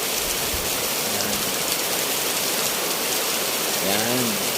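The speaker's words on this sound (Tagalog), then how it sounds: "Umuulan dito sa seafront." Steady rain falls at a seafront, a dense even hiss close by throughout, with a brief faint voice-like sound near the end.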